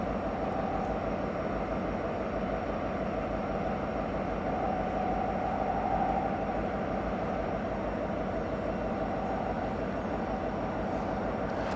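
BNSF freight locomotives just refueled pulling away, a steady low diesel rumble with broad noise that holds level throughout, heard from a distance with no talking.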